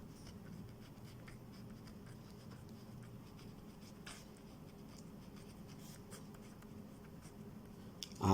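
Pen writing accounting entries on paper, a steady faint scratching that runs continuously under a quiet room hum, with no voices.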